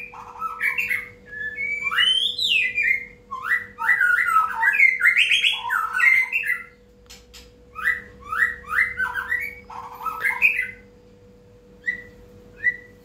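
A tame, long-tailed white-rumped shama in a hanging cage sings varied whistled phrases and chirps in bursts separated by short pauses, clear and close over a faint steady hum.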